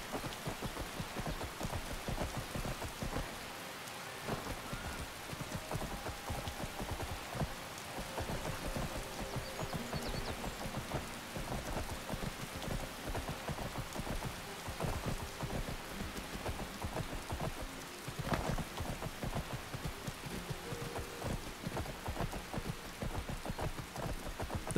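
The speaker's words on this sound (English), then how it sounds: "Is the rain slowing? I think it's slowing down, guys." Steady rainfall in the video game Skyrim, a dense, even hiss of drops pattering on surfaces, with a faint distant rumble, continuous and fairly soft throughout, no voices.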